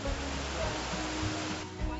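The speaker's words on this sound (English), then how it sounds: "most people come to DeSoto State Park for one thing: the cascading waterfalls" Cascading waterfalls at DeSoto State Park atop Lookout Mountain in northeast Alabama, heard as a steady, broad rush of falling water with a low rumble, moderately distant and continuous throughout.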